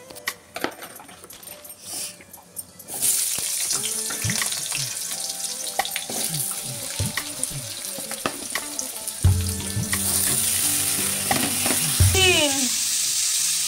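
Peanuts frying in a pan for breakfast, a bright sizzle that starts abruptly and continues with clinks, taps and stirring noises close by, a voice briefly heard in the background.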